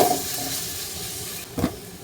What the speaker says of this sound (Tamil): அதை நல்லா வதக்க விட்டுட்டு